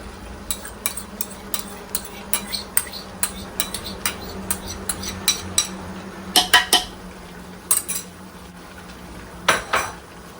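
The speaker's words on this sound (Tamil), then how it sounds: "தேங்காய் பால் கலக்கணும்" Coconut milk being stirred into a pot of Chennai-style crab curry, a metal spoon clinking and scraping against the pot in irregular taps and short bursts, close and fairly clear with no talk.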